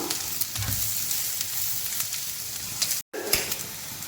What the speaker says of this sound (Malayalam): ഗരം മസാല, മഞ്ഞൾപ്പൊടി ഇതെല്ലാം ചേർത്ത് നന്നായിട്ടൊന്ന് ഇളക്കി കൊടുക്കണം.